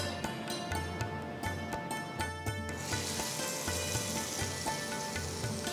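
A hot tempering of dried red chillies, asafoetida and curry leaves is poured into curd chutney. A crackling sizzle swells suddenly into a loud, broad hiss partway through and keeps going steadily.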